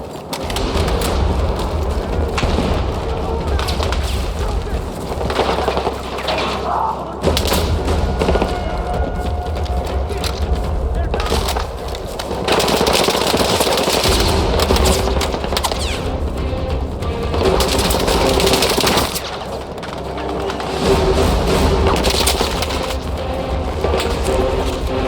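Battlefield 6 combat on the mission "The Rock" fills the scene with dense gunfire and booming explosions, loud and continuous with sharp thuds and crashes layered throughout.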